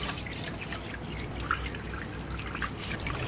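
Fish being rinsed under running water in a kitchen sink, a steady trickle with scattered drips and small splashes, close and continuous, with no talking.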